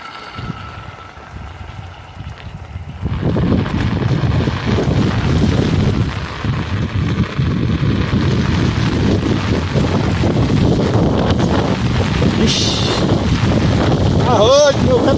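Strong wind and rain in the Brazilian sertão batter the microphone with a loud, continuous roar that swells after a quieter start, and voices talk underneath.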